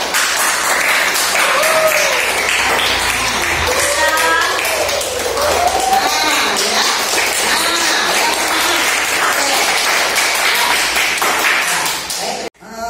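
Students in an Indonesian classroom lesson clap together in sustained, loud applause with voices and cheers mixed in, continuing for about twelve seconds before cutting off abruptly.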